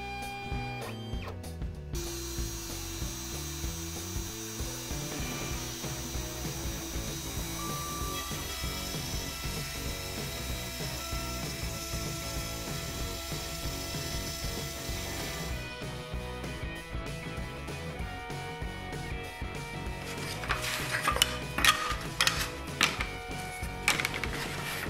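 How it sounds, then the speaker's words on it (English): X-Carve CNC machine cutting plywood pieces, a steady mechanical whine and grinding with tonal motor lines running throughout, ending in a burst of sharper, rattling cutting noise near the end. "We're going to cut out the pieces with our X-Carve, which is a really cool CNC machine that we have"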